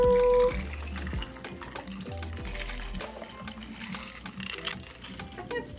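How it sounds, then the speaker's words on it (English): A drink pours over ice into a nutmeg-rimmed glass. Liquid runs and splashes over a soft clink of ice for several seconds, quiet and close, with a low hum underneath. "So we're gonna pour this over ice in a nutmeg rimmed glass."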